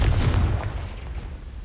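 Confringo blasting spell detonating in a game duel, a single loud booming explosion with a rumbling low-heavy burst that decays into a roaring tail over about a second and a half, close and alone.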